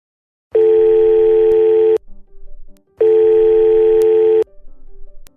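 A telephone ringback tone while calling customer service: two long, loud, steady electronic rings separated by a short gap, each followed by faint line noise.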